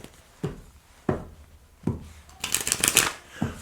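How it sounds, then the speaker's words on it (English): Tarot cards being shuffled by hand, a few separate soft riffles and slaps followed by a denser burst of quick card flutters, close and fairly quiet with no talking. "I need to shuffle, sorry."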